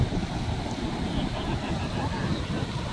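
Sea waves surge and rumble close by with wind buffeting the microphone, a constant loud wash of surf.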